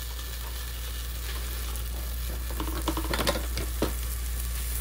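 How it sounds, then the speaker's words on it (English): Two tablespoons of butter melting in a pan give a soft, steady sizzle over a low hum, with a cluster of clicks and scrapes partway through. "Going to get my butter all melted down."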